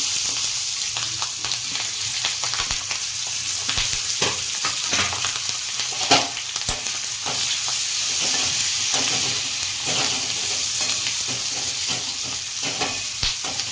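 Chopped chillies fry in hot oil in a pan, a loud, steady sizzle that fills the whole stretch, with occasional stirring scrapes and clinks close by and no talk.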